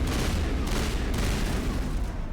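Assault rifle fire in the game Mass Effect 1 Legendary Edition comes as continuous rapid shots mixed with combat noise and booms, loud and dense throughout.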